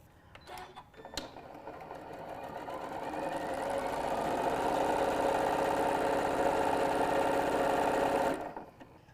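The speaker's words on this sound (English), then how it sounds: "You can go very fast on this machine. Quilts it up in no time." A sewing machine quilting layers of a patchwork fabric pouch, stitching steadily at high speed after a few sharp clicks at the start. The whirring is close and continuous, builds slightly in loudness, then stops abruptly.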